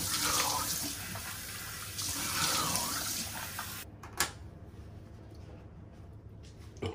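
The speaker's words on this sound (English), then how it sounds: "I'm gonna rinse off with cold water, close the pores up" Cold water runs from a bathroom tap with a steady close splashing rush as a face is rinsed after shaving, then stops at about four seconds, leaving a few faint drips and a soft handling noise.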